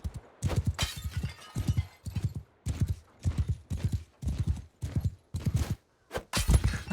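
Horse hooves galloping in the video game Mount & Blade 2: Bannerlord, a fast, rhythmic clip-clop pounding in steady bursts, close and clear, with no talk over it.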